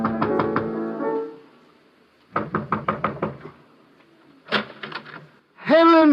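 Knocking on an apartment door comes in three bursts of rapid raps, close and resonant with pauses between, followed by a brief voice at the end.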